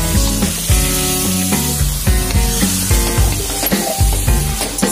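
Marinated chicken mixture sizzling loudly in a pan for a restaurant-style Chicken Changezi, with repeated stirring strokes and scraping knocks over a steady frying hiss, close and alone without talk.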